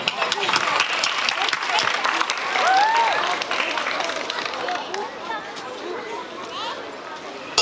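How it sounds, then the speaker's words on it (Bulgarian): A festival crowd at an outdoor May holiday event applauds a singer, sustained clapping mixed with crowd murmur and a brief voice rising over it, tapering slightly toward the end. "Аплодисменти за него!"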